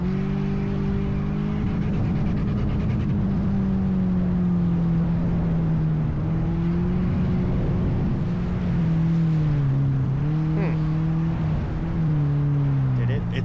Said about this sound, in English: He sounds like he's going really fast.